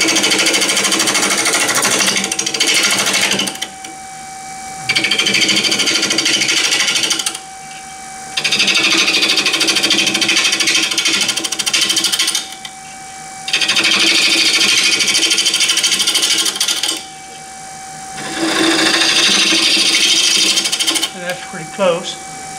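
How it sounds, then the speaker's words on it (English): A chisel cuts wood on a lathe during closed-form turning, a loud, steady scraping whine in several bursts of a few seconds each, separated by short quieter gaps, with the lathe's tonal hum running underneath. "I do that with the bottom edge of my chisel. I'll come up here and I'm going to touch it."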